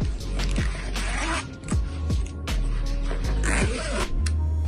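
A board game bag's zipper is pulled open in several quick, rasping strokes close by, each pull a short scratchy zip with brief pauses between.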